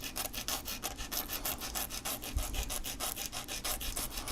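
Sandpaper rubbed by hand against a small metal burr, a steady rhythmic back-and-forth rasping of quick, even strokes, close and fairly quiet with no voices.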